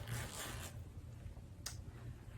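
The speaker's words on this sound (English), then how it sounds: "plastic talon zipper," A plastic Talon zipper on a wool tweed skirt being worked, giving a soft close rasp followed by a short quick zip after a pause.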